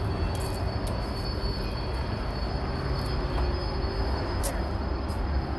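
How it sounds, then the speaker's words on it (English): A train passing by near a mansion in Martinez, a loud steady rumble of wheels on rails with occasional metallic squeals and clanks, continuing throughout with faint voices in the background. "Oh, there is the train, Rich."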